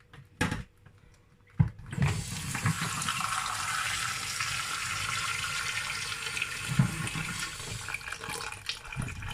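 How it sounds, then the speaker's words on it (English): After a couple of soft clunks, tap water gushes steadily into a sink, a continuous hissing splash that stays close and even. "I'm gonna put it in the sink."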